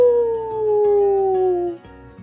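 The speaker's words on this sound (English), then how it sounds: "A coyote howled in the distance." A coyote howls far off in a desert setting, one long wavering cry that slides slowly downward in pitch, sustained for nearly two seconds before fading out over a low background.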